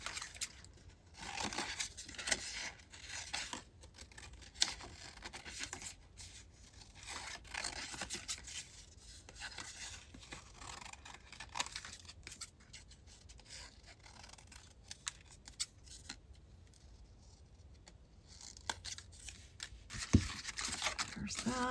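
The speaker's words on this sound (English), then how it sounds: "So let's tear that part out." Paper pages being torn out of a worn junk journal, with repeated ripping, crinkling and rustling up close that comes in bursts and continues over a long stretch.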